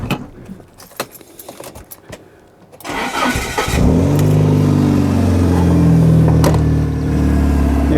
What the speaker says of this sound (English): I'm going to fire up the car in a minute to let you listen to it a little.